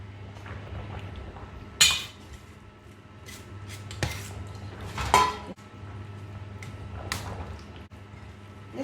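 Preserved tofu being mixed in a dish with a utensil, heard as a few scattered clinks and scraping knocks against the bowl over a low steady kitchen hum, close by and fairly quiet.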